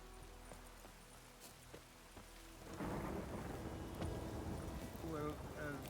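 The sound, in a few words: rain and thunder in the video game The Witcher 3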